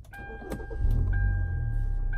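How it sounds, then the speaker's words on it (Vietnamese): A 2011 Hyundai Tucson with a 2.0 petrol engine and automatic transmission cranks briefly and catches, settling into a smooth low idle rumble heard from inside the car, with a steady electronic chime tone alongside; no speech. "máy khởi động và nổ khá êm"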